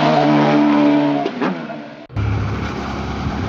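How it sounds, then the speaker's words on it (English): A Ferrari and a police motorcycle race past on a road, a loud engine roar sweeping by and fading, then a sharp cut to steadier engine and wind noise, with no talk. "that Ferrari and that cop bike having a race"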